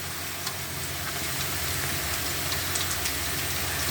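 Onions with green chilli frying in a pan, a steady dense sizzle running unbroken at even loudness throughout, with no talk over it.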